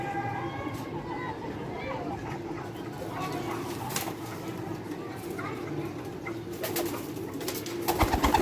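Pigeons cooing at a loft in Sialkot, low soft coos repeating under a steady bed of background noise and voices talking, with some brief clatter toward the end.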